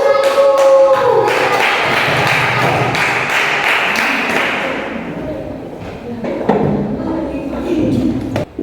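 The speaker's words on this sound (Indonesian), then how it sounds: "Sekarang beri tepuk tangan yang meriah untuk kelompok 1" Classroom audience clapping for group 1 at a teaching-practice session, a dense burst of applause that thins out after a few seconds, with scattered thumps and taps afterward.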